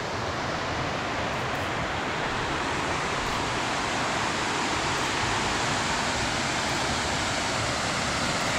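Waterfall in Kodaikanal, a steady broadband roar of falling water that holds constant and fairly loud throughout, with no voices.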